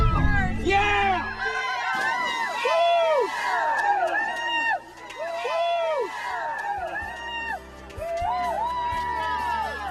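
A crowd cheers and whoops after someone jumps from a ledge, with shouts and excited voices overlapping in a lively, fluctuating roar that briefly drops midway before rising again.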